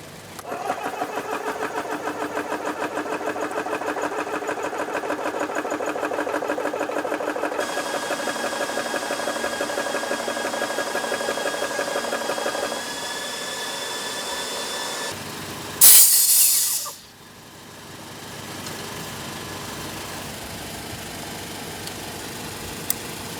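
AEA ReadyAir airgun compressor switched on and running, a loud steady motor drone with a buzzy mechanical rattle that shifts pitch partway through, then a sharp hissing blast of air before a quieter hum continues.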